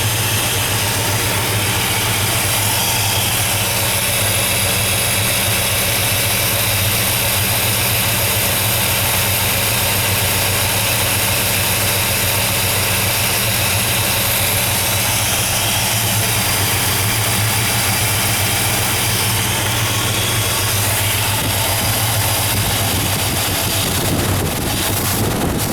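A 1957 Chevrolet Bel Air V8, run briefly with no coolant in it, idles steadily and loudly for the whole stretch with a constant low rumble and no talking, and the sound roughens near the end.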